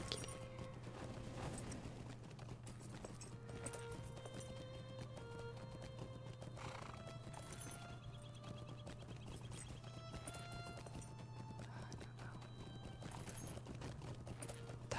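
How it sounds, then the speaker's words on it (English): Horse hooves clip-clop steadily in the online game LOTRO, a soft, even trotting rhythm running under a continuous bed of game music and ambience, fairly quiet throughout. "That was a pretty horse."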